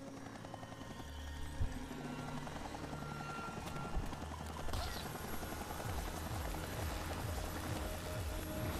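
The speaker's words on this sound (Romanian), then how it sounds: "Uite un elicopter." Helicopter in the video game Far Cry: a steady, continuous rotor chop and engine drone holding at a moderate level throughout, with a few faint game noises mixed in.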